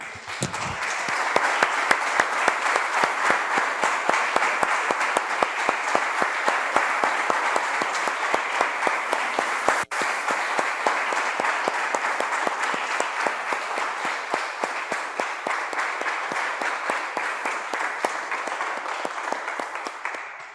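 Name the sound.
applause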